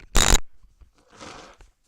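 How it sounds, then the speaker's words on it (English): Someone blows their nose up close, starting with one sharp, loud honking blast and then a longer, softer follow-up blow, with no talk. "I had to blow my nose"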